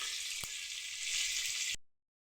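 Turmeric-coated rohu fish pieces and head frying in a wok, a steady hissing sizzle with a couple of soft knocks, cutting off abruptly near the end.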